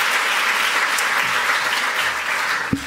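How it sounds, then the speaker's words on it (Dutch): Warm applause from the audience at a left-wing progressive political gathering in Amsterdam, a loud sustained wash of clapping that tapers slightly, ending with a single thump. "geef er een warm applaus."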